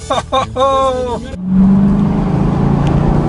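A Chevrolet Camaro ZL1 muscle car drives off with a steady, loud engine drone and road rumble that holds to the end, after someone speaks briefly at the start.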